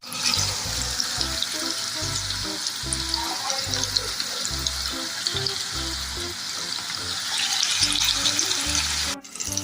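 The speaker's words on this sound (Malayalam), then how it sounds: "അപ്പോൾ നമ്മൾ ഫിഷ് ഫ്രൈ ചെയ്ത് കൊടുത്തിട്ടുണ്ട്." Fish for a Kerala fish fry sizzles loudly and steadily in a pan of hot oil. The bright, constant crackle continues over a soft, rhythmic low thumping before cutting off abruptly at the end.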